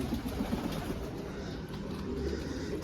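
Low, soft cooing from a young pigeon left at a doorstep, continuous over a steady background hum, with no talking.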